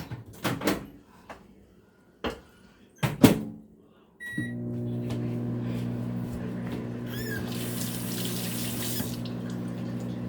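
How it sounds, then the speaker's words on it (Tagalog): A few clicks and a door-like thump, then a beep, followed by a microwave's steady loud hum running continuously for several seconds. "initin natin sa microwave ito"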